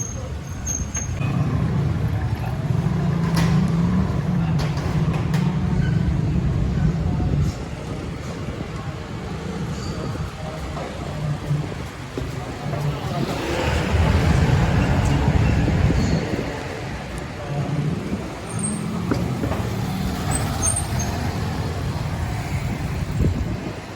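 Busy Almeda Street traffic in Pateros, Metro Manila, with buses and trucks rumbling nearby. Engine noise surges up and down in a constant loud wash, and occasional hisses and squeals ride over it.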